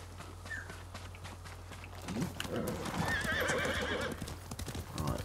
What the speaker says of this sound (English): Is that our horse?